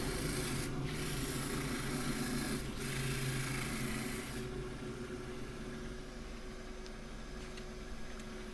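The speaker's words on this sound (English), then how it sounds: "Sanding with oil is a good way to keep the dust down" Steady scratchy rubbing of abrasive with oil against a wooden Himalayan cedar bowl on a lathe, continuous and close, with a low hum running underneath throughout.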